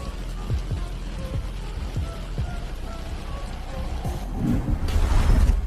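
Heavy rain during a storm falls in a steady, dense patter. The downpour swells louder and rougher toward the end.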